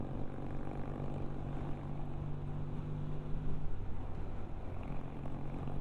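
A Triumph Tiger 110 motorcycle, a sporty model with a single big-bore carburettor, on the road with a steady engine drone and wind rush that swells slightly toward the end.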